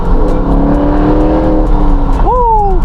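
2014 Ford Mustang engine revving as it accelerates down a street, a loud steady drone with rising pitch sweeps and a sharp climb near the end; a voice talks over it.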